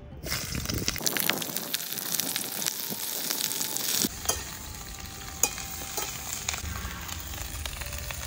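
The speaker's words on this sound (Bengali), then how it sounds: "এবার তেলের মধ্যে ফুলকপিগুলোকে ছেড়ে দেবো" Cauliflower florets drop into hot oil in a karahi over a wood-fired clay stove, bursting into a loud, dense sizzle that keeps crackling steadily with a few stirring scrapes, close by and with no voices.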